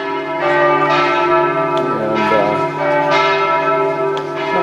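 Church bells ring continuously with overlapping, sustained tones and repeated strikes, fairly loud and close, with no talking.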